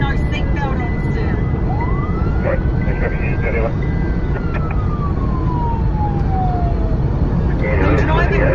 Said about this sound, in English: you're speeding with your siren on